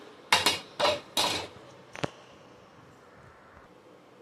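A metal kadai pan is set on a kitchen stove. Three loud, close metallic clanks come in quick succession, then a single sharper knock, followed by quiet.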